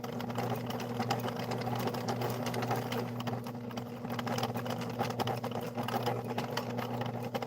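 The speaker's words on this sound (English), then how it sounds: "sewing very slowly right now because of what's going on" A sewing machine stitches quilt fabric in a steady, continuous whirring hum with fast needle chatter, close and even, with no talking over it.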